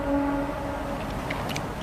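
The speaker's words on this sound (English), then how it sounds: "That's just a train." A train sounds far off through woodland, its horn a steady tone that echoes among the trees for the first half-second and then fades into a low, continuous rumble heard alone.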